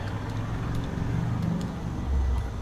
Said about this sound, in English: And that was a loud car.